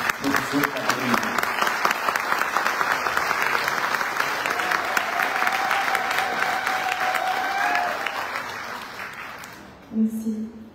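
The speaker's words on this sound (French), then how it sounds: "applaudir très chaleureusement ce académie" Warm, sustained applause from an audience honouring an academy at a formal ceremony, dense clapping with faint voices and a few cheers that fades near the end before a voice resumes.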